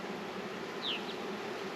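Honey bees buzz over a hive frame as it is handled, a steady close drone with a few brief higher whines of individual bees passing near.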